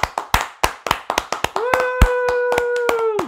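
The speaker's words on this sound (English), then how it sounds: "that was the clapping" A live audience at a podcast recording claps in a crisp, quick series of hand claps, sparse and close, joined midway by a long sustained whooping tone.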